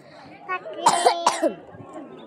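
A person coughs two or three times in quick succession, fairly close and clear, among light background chatter.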